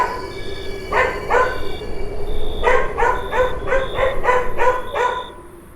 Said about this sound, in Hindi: दूर कहीं कुत्तों के भौंकने की आवाजें माहौल को और डरावना बना रही थीं